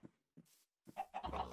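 Chicken clucking in the Minecraft video game, a few short close clucks in quick succession, the last ones louder and more crowded, with no talking over them.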